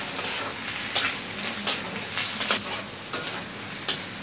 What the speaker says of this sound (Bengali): এখন দিয়ে দিব গাজর টমেটো দিয়ে দিচ্ছি একটু নেড়ে চেড়ে নিয়ে